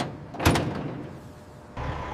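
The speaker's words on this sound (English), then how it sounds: "The worker closes and secures the rear doors, preparing the truck for departure." A worker closes and secures the rear doors of a loaded semi-truck at a loading dock: one loud thudding bang, a quieter stretch, then a second rising clatter of the latch as the doors are fastened.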